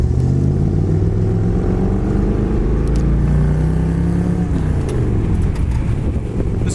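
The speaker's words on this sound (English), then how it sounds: "This car, like I said, with 289, it still sounds good, shifts nice." A 1963 Ford Galaxie 500 convertible with a 289 V8 runs close by, its deep engine rumble rising and falling as it revs, steady and loud throughout.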